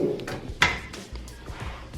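A drawer on a U.S. General five-drawer 30-inch metal tool cart slides open, with a sharp clack and brief rolling scrape, followed by softer rattles close by.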